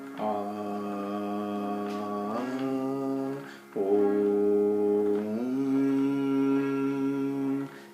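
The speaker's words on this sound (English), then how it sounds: "This is the sound of Om or Aumkaaraa" A steady, low sustained voice chanting Om (Aumkaaraa), a drawn-out syllable held in long tones with a brief pause between two phrases, close and clear.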